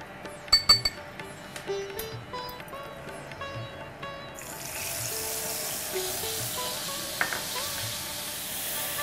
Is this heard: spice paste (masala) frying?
yes